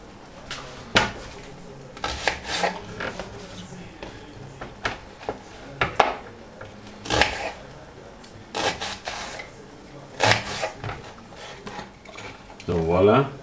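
A knife chops an onion on a cutting board in a home kitchen: irregular, crisp taps and knocks, some grouped in quick bursts. A voice talks intermittently between the cuts.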